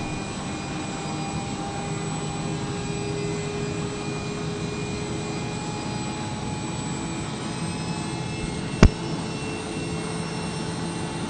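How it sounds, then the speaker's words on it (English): A Porsche race car engine in a 24-hour Spa racing video game drones steadily at high revs throughout, with one sharp brief click near the end and no voices. "you can hear the engine. The engine of the Porsche absolutely wringing its own neck to try and keep up there"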